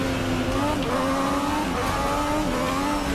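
Race cars in the driving game Forza 6 roar continuously, engines whining and revving at high pitch in a dense, close, unbroken stream of racing noise.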